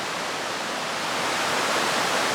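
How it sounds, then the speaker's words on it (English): River water at Cranbrook Flower Forest in Jamaica rushes beneath a bridge, a loud, continuous broadband roar of rough flowing water with no voices. "the river passes underneath it"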